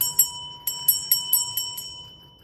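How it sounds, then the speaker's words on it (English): A small bell, likely a hand bell, is rung several times during a live rock and crystal sale, giving a series of bright, ringing strikes that gradually fade. "I'm gonna give you a bell because that was the last."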